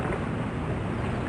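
Ocean waves in the video game Eco Quest 1, a dense, steady roar of surf washing without pause, loud and close, no speech over it.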